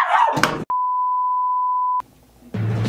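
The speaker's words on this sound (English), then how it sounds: "Beep." A steady electronic beep tone holds at one pitch for just over a second, loud and clean, with noisy sound before it and after it.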